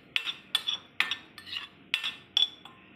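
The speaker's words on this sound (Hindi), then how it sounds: "इसको अच्छे से मिक्स कर लेंगे हम।" A metal spoon clinks repeatedly against a bowl while ingredients are mixed for a bread sandwich, roughly seven sharp, close taps in an uneven rhythm with short scraping stirs between them.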